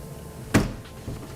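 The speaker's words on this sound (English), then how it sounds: "start pocketing these doors because we are on the one end of the property facing the backyard. As I open up these doors" Pocket doors sliding open in a house room that leads onto a covered backyard patio, a single sharp knock or thud followed by a softer rolling bump, close by with quiet room tone around it.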